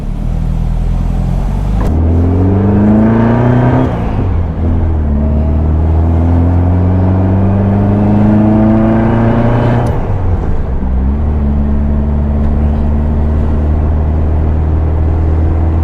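A 1973 fuel-injected VW Super Beetle accelerating on the road, its engine note climbing through two gears with a clear shift between them, then settling into a steady cruising drone, heard from inside the car with no talk.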